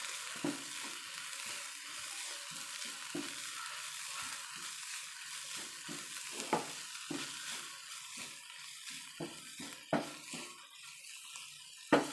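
Grated coconut being stirred into a pan of frying long bean thoran, soft sizzling mixed with repeated scraping and tapping of a spoon against the pan, fairly faint and close.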